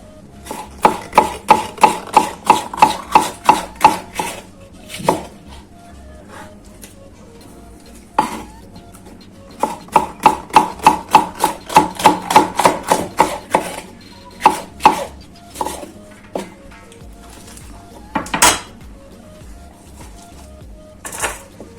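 Quick, steady knife chopping on a cutting board in several bursts of rapid strokes, separated by short pauses, close and clear with no talking.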